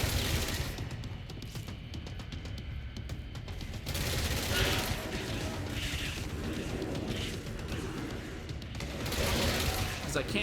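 Rapid bursts of gunfire from the player's weapon in the video game Control, dense and continuous over a loud rumbling game mix.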